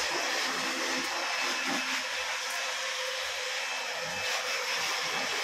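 A technician runs an air blower to clear debris on a construction site, giving a steady, loud, broadband rushing whoosh that surges slightly in places and continues unbroken throughout.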